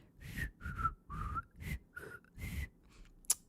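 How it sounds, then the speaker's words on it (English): A person whistles without using fingers, producing a series of about six short breathy whistled notes at shifting pitches with brief pauses between them, close and fairly quiet. "Yeah, I can whistle without my fingers too."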